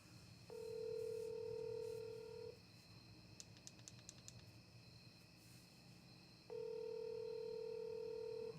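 A telephone call rings out unanswered: two long ringback tones separated by a pause of several seconds, with a brief burst of quick beeps between them. The sound is faint and steady, with no talking.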